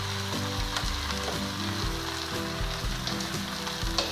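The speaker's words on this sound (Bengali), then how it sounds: "দেখুন খুব আস্তে আস্তে নাড়াচ্ছি, এটাকে আবার আমি ঢাকা দিয়ে রাখবো।" Bottle gourd leaves cooking Bengali-style in a pan are stirred slowly, a loud close frying sizzle running throughout with occasional scraping stir strokes, no talking.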